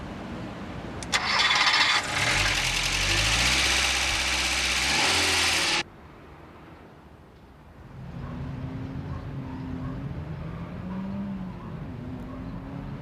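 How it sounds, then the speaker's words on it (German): A 1974 Volkswagen Golf engine revs hard and loud for several seconds accelerating from 0 to 100 km/h, then cuts off abruptly, followed by a quieter steady engine hum. "Beschleunigungsmessung von 0 auf 100 Kilometer pro Stunde"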